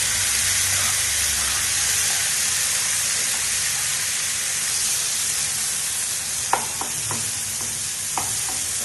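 Tomatoes sautéing in a hot pan for egg bhurji, a steady close sizzle and hiss throughout with a few sharp clicks of a spatula stirring near the end; no one speaks.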